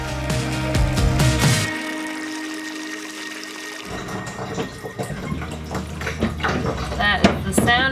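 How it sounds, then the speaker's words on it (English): Water rushing into a boat's clean water tank, a loud splashing start that settles into a steady gurgling flow with occasional knocks and clunks. "That is the sound of water going in"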